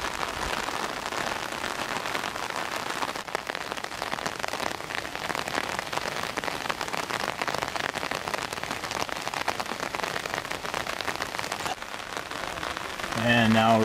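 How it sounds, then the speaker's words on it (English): Steady rain falling in misty weather in Salento, Colombia, a dense, even patter on surfaces that continues throughout at a constant level, close and fairly loud, with no talk over it. "Obviously raining, kind of misty."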